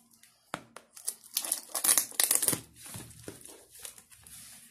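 A cardboard shipping box holding Joyroom T09 and Haylou T15 earbuds is opened close up, with loud crinkling, tearing and rustling of cardboard and packaging in irregular bursts. There is no talking.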